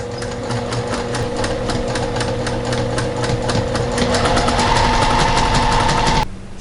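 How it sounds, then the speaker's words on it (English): A sewing machine stitches the side back seams of a garment in a fast, even run of mechanical ticks over a humming motor, loud and close, stopping abruptly near the end. "Now sewing together the side backs."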